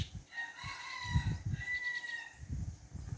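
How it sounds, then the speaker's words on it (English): Rooster crowing in a backyard bird setting, a drawn-out call rising over low background bird noise and rustling, moderately near. "That rooster that's loud."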